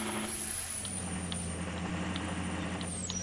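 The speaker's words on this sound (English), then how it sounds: "And this truck is loud." A loud truck drives over rough ground during land clearing, its steady engine drone and road noise continuous throughout, with a faint hiss and short tonal squeals like air brakes.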